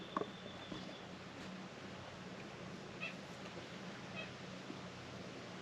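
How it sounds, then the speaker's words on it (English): A cat meows faintly a few times in a quiet indoor space near a back door, the calls brief and distant over a steady background hiss. "The cat's objecting."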